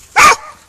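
A single sharp dog bark, loud and close, then quiet.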